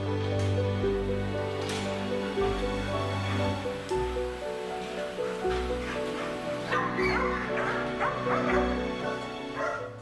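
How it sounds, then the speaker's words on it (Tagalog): Dog barking and whimpering for attention, a formerly caged military dog, with repeated close yips and bow-wow barks mixed with whining, over steady background noise and faint surf. "hindi mabangis na canine dog ang aking nakita, kundi isang asong naghahanap ng pagkalinga"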